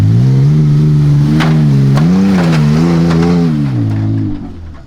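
An overland truck without four-wheel drive climbs a hill on a professional race course, its engine revving hard and close with rising and falling pitch, loud and steady before easing off at the end.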